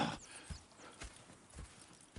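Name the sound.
horses in the video game Red Dead Redemption 2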